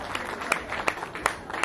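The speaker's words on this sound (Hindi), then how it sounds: "जोरदार तालियों की गड़गड़ाहट हो जाए दोस्तों।" An audience applauds at an awards ceremony in a hotel. The clapping is soft and distant, with a few sharper claps standing out at a steady pace over a hushed room.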